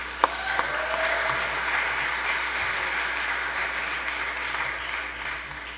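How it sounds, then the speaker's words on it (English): An audience at an open source hardware summit applauds a speaker as he is introduced, a steady wash of many hands clapping that holds evenly for several seconds without talk over it. "so please give him a round of applause."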